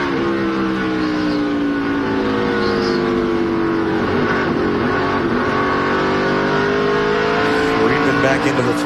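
NASCAR race cars at the 2001 Autolite/Fram 250 roar continuously on track, layered engine drones rising and falling in pitch as they accelerate, loud and close, with commentators talking over the racing.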